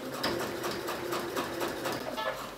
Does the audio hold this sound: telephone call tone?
no